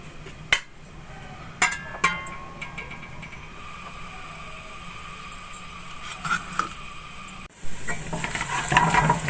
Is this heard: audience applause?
no